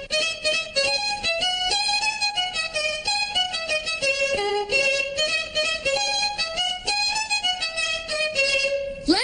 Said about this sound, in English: the violins sound like this